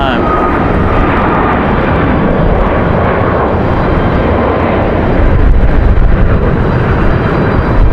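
A United airliner draws nearer on approach to Raleigh-Durham airport in gusty wind, its engine roar steady and broad across the clip and swelling slightly near the end, with wind buffeting and a voice talking over it.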